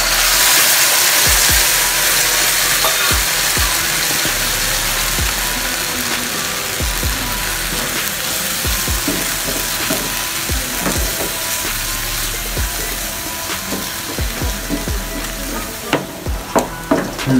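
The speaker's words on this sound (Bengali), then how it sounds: "এখন আমরা সিদ্ধ তরকারিটা ঢেলে দেব" Boiled vegetable curry tipped into a hot pan, a loud initial rush of sizzling that settles into steady frying with scattered clicks and spoon knocks, close up, with no talking.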